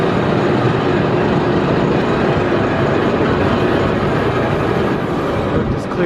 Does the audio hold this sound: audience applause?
no